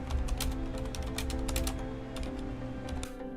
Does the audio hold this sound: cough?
no